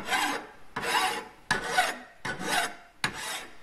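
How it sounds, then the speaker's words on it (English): A hand file rasps along a steel spring, shaping a knife-like edge for a spud, in five steady back-and-forth strokes with short pauses, close and fairly loud with no talking. "you can see Tony's making an edge, like a knife edge"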